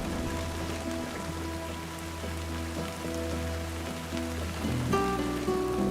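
Heavy thunderstorm rain pours down steadily in a dense, loud, continuous hiss of drops on surfaces, unbroken from start to finish with no voices.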